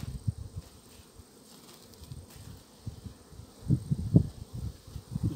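Honeybees buzz faintly and steadily nearby at a hive, swelling louder in short bursts toward the end, with no talking.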